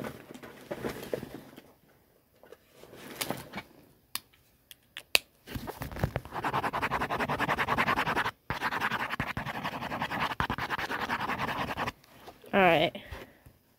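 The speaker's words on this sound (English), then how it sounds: "Alright, let me write this." A pen scratches across paper in bursts of scribbling, close and fairly loud, with long stretches of dense scratching broken by pauses and a few sharp taps, while a person speaks in places.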